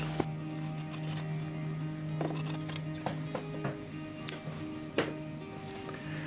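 Scissors cutting excess fabric off a one-shoulder dress during an alteration, giving a few crisp close snips and blade clicks spread through the clip, with a faint background hum and no talking.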